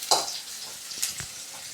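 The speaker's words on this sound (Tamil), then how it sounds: "ஸோ ஆனியன் நல்லா வதங்கட்டும்." Onions sautéing in a pan for vegetable Maggi noodles, a soft sizzle with a few brief stirring scrapes and clinks, fairly quiet and without talk.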